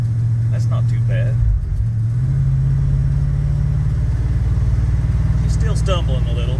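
A 1976 Ford LTD V8 idles roughly and stumbles while still cold, a steady low close rumble with a brief dip partway through and faint background noises.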